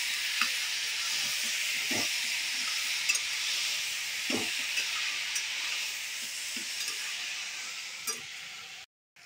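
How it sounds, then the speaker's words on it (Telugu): Pieces of potato and vegetable stirred in hot oil in a pot, a steady sizzling hiss with occasional soft scrapes of the spoon, close and continuous, no speech. "ఆయిల్ బాగా కలిపి"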